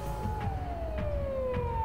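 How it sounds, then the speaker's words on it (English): A police patrol car siren in the Steins;Gate game wails loudly and steadily, its tone sliding slowly downward over a low rumble, with faint recurring bursts and no voices. "a shrill siren shatters the night"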